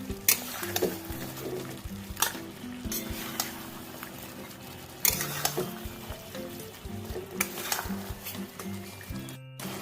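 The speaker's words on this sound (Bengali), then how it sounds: "চিকেনটা খুব ভালো করে কষবো যাতে মশলার কোনো কাঁচা গন্ধ না থাকে" Chicken stir-fried with spices in a pan over a steady sizzle, with repeated scraping and stirring strokes and occasional clatters of a utensil against the pan, close and fairly quiet.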